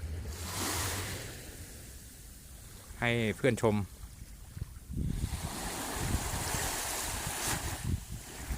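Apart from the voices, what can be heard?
sea waves at Suchada beach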